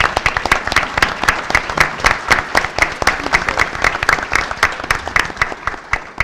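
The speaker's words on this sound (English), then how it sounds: "So I just want to give you a round of applause." Audience at a community breakfast event clapping in a sustained round of applause, many hands close and loud with a dense rhythmic patter that fades slightly at the end.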